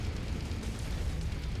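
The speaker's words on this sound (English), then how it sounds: "Explosion imminent. Your target is about to crit, Commander." A destroyed mech's deep, rumbling explosion roars in MechWarrior 5: Mercenaries, a loud and sustained low boom that fills the whole moment.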